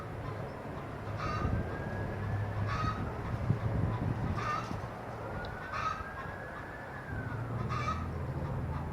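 Chickens and geese squawk and honk in a Long Island chicken coop, with repeated calls rising over a steady low rumble of background noise.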